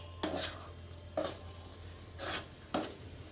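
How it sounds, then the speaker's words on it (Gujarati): Spinach leaves stirred into simmering gravy in a pan, with four distinct scraping strokes of a spoon against the metal, spaced at a slow, regular rhythm over a faint sizzle. "આમાં હવે પાલકની ભાજી નાખીશું અને આમાં ભેળવી નાખશું"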